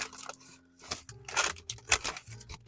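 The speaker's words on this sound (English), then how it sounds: "My scissors, my rules." Scissors cut through fabric during a dressmaking fabric unboxing, giving a few short, crisp snips and rustling cloth in quick bursts, close and fairly quiet, with no talking.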